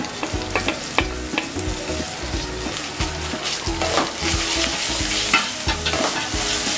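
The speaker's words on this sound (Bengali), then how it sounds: "এবার আমি দিয়ে দিচ্ছি রসুন কুচি।" Chopped garlic dropped into a pan with green chillies and ginger for mushroom do pyaza, frying with a loud, close crackling sizzle and repeated scraping strokes of a spoon stirring, no voices.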